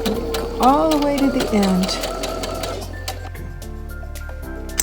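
Sewing machine stitching a fabric face mask chin piece, a rapid rhythmic mechanical chatter running close and loud under a speaking voice, then slowing toward the end.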